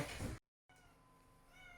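A short, close cat meow, then a brief silence before a quiet indoor hum.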